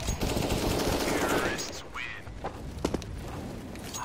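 Rapid bursts of Counter-Strike gunfire crackle loudly at the start, followed by a few sharp isolated shots and footsteps while a commentator talks over the game action.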